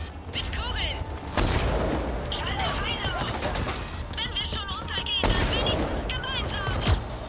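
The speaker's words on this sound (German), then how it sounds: "Haben Sie den Schuss gesehen, Brooks?" Gunfire in the video game Mass Effect 3: bursts of shots and booming impacts pile up over a steady battle din, with voices speaking through the action.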